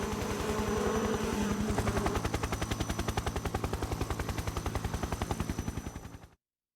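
A helicopter in Metal Gear Solid 3 gives a rapid, evenly spaced rotor chop, loud and steady for several seconds before it fades out and cuts to silence.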